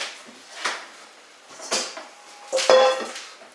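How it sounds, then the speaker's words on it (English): A metal pan is lifted and set down in a home kitchen while making broccoli cheddar salad, giving a few sharp knocks and clanks with a brief ringing tone near the end. "We'll get another pan here"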